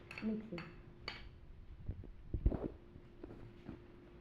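A spoon stirs snack ingredients in a bowl, giving a few sharp clinks and scrapes of metal on the dish with quiet gaps between them, close and fairly soft.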